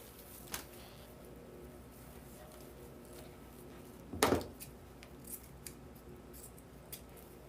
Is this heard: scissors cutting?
yes